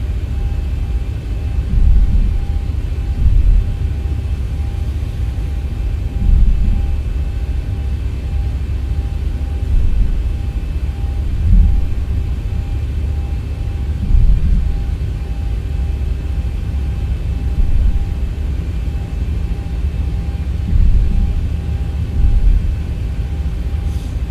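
A simulated airliner taxis at Johannesburg airport, its engines giving a steady low rumble with faint tonal hums, and soft swells recur every few seconds. No one speaks.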